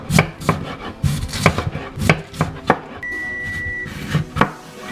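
A big washed potato being chopped with a knife: about a dozen sharp, close strikes in an uneven rhythm, with a steady electronic beep sounding briefly partway through.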